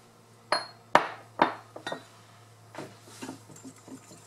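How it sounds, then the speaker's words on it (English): Eggs, cheddar cheese and other quiche ingredients mixed in a bowl: three sharp clinks of a utensil against the dish, then softer, irregular taps and scraping, close by with no talk. "mix all these ingredients together"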